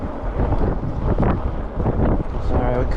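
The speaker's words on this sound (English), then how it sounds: "It's a little windy out here today." Strong wind buffets the microphone with continuous low rumbling gusts, loud and close throughout.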